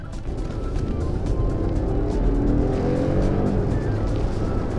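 Car engine heard from inside while driving, a loud steady low rumble with road noise that rises slightly as it goes, alone without talk.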